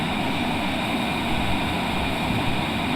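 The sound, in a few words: Cessna Citation Longitude jet at full takeoff power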